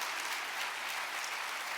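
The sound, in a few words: audience round of applause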